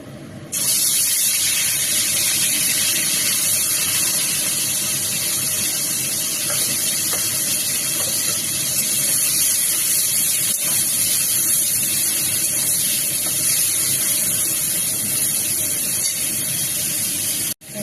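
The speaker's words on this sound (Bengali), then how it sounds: "এখানটা আমি চিংড়ি মাছটা ভেজে নেব।" Prawns coated in turmeric, chili powder and salt frying in hot oil, giving a loud, steady hiss and sizzle that runs without a break for nearly the whole stretch.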